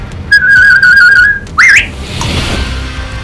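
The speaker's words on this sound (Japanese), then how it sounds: "お得意の口笛、それ音楽に役に立つんですか。" Loud, close whistling with a wavering trill-like melody, a held warbling note followed by a quick rising sweep, then fading into quieter background noise.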